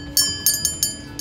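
A small decorative Christmas bell from a discount store rings in several bright, light chimes at an uneven pace, each one ringing on briefly, close and clear, with no talking.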